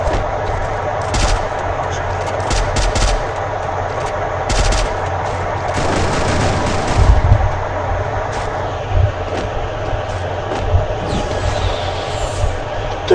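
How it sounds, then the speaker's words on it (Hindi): Rapid bursts of video-game gunfire from an AN94 rifle and a shotgun in a Counter-Strike-style match sound in loud, clustered volleys, separated by short pauses over a steady background rumble. "फिर मैं लेता हूँ AN94 गन और एक वो शॉर्ट गन वाली गन"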